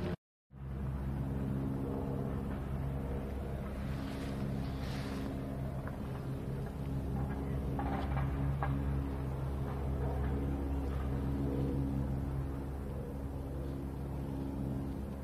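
A car on a golf course in winter at night gives a steady low engine rumble that holds fairly constant and moderately close for about fifteen seconds after a brief silent start.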